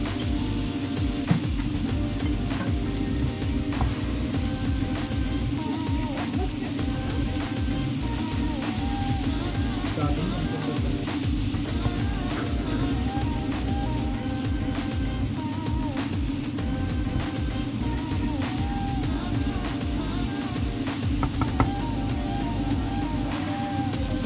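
Onions and green peas fry in a pan for a gobi matar masala, giving a steady, continuous sizzle with faint scraping and clinks throughout, no talking over it.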